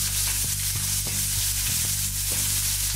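Vindaloo ingredients spit and crackle steadily in hot frying grease, a dense continuous sizzle with a low bubbling undertone and faint periodic clicks, close and loud with no voices.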